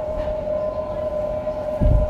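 A Waratah electric train makes an odd steady electric whine holding one pitch over low rumbling train noise, with a brief louder thump near the end.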